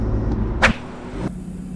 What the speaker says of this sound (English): pretty much you can hear the intake noises a lot